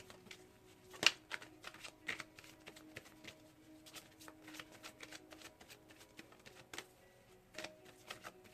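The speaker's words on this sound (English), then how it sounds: "Now let's pull some love oracle cards" Romance Angels oracle cards are shuffled and pulled by hand, giving soft scattered flicks and riffles with one sharper snap early on, quiet and close with no talking.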